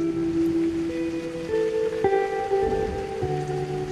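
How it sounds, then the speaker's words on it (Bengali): Heavy rain patters steadily behind a horror story, with sustained eerie tonal drones that shift in pitch layered over it, and no voices over it. "একদিন সকাল থেকেই খুব বৃষ্টি।"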